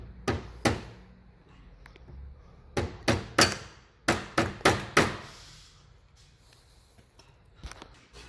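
Treadmill walking belt tapped into place with a hammer, about ten sharp, close knocks coming singly and in quick runs with short pauses between, no talk.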